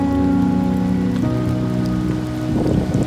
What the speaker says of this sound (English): The wind is blowing on the umbrella right now, and it's not easy.